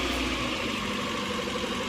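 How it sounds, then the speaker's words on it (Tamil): Engine of a 2014 Maruti Eeco van idling steadily after a self-start, a continuous close, even rumble with no voices. "வண்டி சிங்கிள் செல்ஃப் நல்லாவே ஸ்டார்ட் ஆயிருச்சுன்னு சொல்லலாம்."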